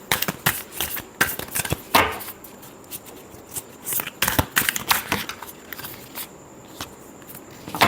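Tarot cards are shuffled in quick riffling bursts with short pauses between them, close and crisp, with no voices.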